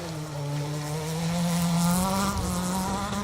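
A 1400 Vauxhall Corsa rally car passes on a rally stage, its engine note droning steadily and rising as it approaches, then swelling loudest near the end with some tyre and gravel noise.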